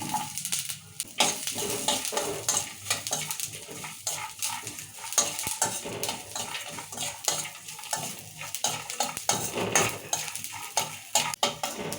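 Coconut, peanuts, sesame, fenugreek and coriander seeds dry-roasting in a pan, with continuous rustling, scraping stirs and occasional utensil clatter throughout.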